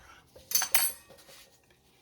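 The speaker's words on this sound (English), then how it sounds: "I'm gonna take and just cut it off with this knife" A knife trimming excess pastry dough from apple turnovers makes two sharp scraping clicks against a pan, followed by a soft knock at the end, close and fairly quiet.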